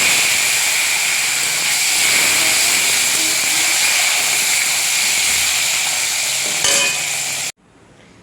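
Potatoes fry in hot oil with a loud, close, unbroken hissing sizzle that stops abruptly near the end.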